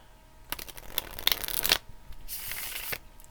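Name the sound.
shuffling tarot cards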